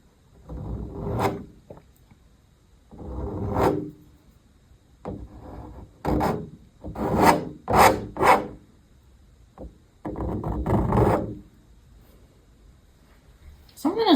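A paint knife scrapes oil paint across canvas in repeated rough, rasping strokes. The strokes come in uneven bursts with quiet gaps between them, heard up close with no talking.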